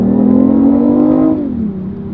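BMW i8 hybrid supercar engine revving hard in a loud, close, steady accelerating pull with rising tone, then easing off as the note drops near the end.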